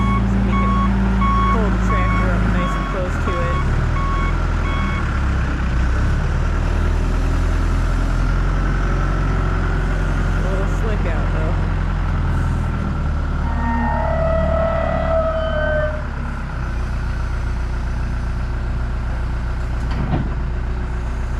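A tractor smoothing and clearing rain-soaked ground at an off-grid site idles and rumbles steadily nearby, with a repeated high reversing beep for the first few seconds and some faint tones later.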